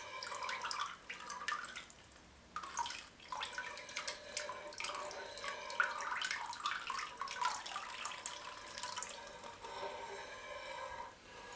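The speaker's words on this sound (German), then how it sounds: "Und rühre das hier in die Milch." Rennet is stirred into milk in a vessel while making homemade cream cheese, giving soft liquid swishing and dripping sounds with brief pauses, close and quiet, with no talk.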